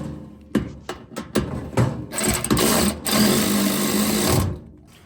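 A power tool buzzes in several short bursts and then one long sustained run while screws are tightened on a cargo security drawer in a car trunk, fairly close.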